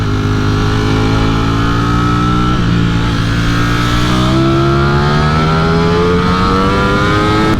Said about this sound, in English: let's get up to some motorway speeds then and see what it feels like